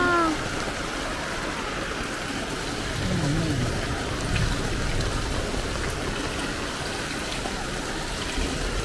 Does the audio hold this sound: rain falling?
yes